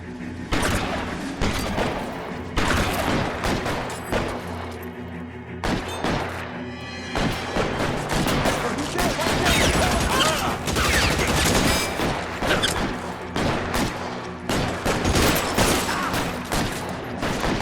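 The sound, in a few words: gunfire in L.A. Noire video game shootout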